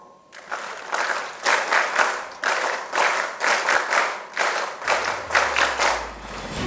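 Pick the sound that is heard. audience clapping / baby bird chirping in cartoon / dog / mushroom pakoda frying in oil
audience clapping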